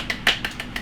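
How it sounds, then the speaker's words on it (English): A family at home claps for dad with a handful of light, quick, crisp claps in under a second. "Everyone clap for Daddy."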